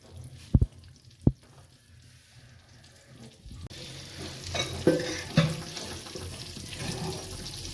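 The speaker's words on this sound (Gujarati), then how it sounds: "આમાં તેલ વેડી 3-4 ચમચી પછી બટર નાખી દેવાનું અંદર" Butter and oil for pav bhaji sizzle in a hot pan, preceded by two sharp knocks of utensils, then a rising crackling fry with a few louder spits, close and steady.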